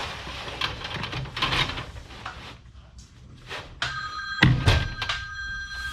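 A telephone rings in a workshop during an air compressor line install, its bright electronic tone sounding in short bursts among knocks and thuds of work.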